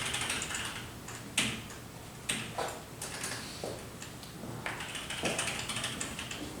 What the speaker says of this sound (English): It's very clicky keyboard